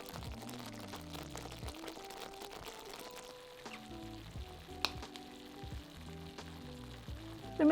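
Sauce of passata, tomato puree, sugar and cardamom pods bubbling and sizzling gently in a pan, with soft stirring scrapes and an occasional louder clink near the end.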